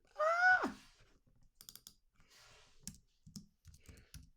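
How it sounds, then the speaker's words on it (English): A cost is typed into a spreadsheet on a computer keyboard, with scattered light key clicks and taps following a brief sigh-like sound, close and fairly quiet. "And we can type that right here."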